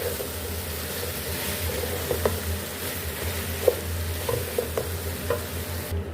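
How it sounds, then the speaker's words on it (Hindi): Okra being stirred into sizzling spices in a pan, a steady frying hiss with occasional soft scrapes and clinks of the spoon, close and continuous, no talking. "अब इसमें हम भिंडी डाल देंगे और इसको अच्छे से मिक्स कर लेते हैं"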